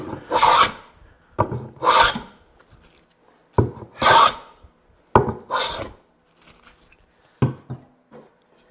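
A hand plane works a wooden cutting board in five or six separate strokes. Each one is a close, bright rasping swish, with short quiet pauses and light knocks between strokes.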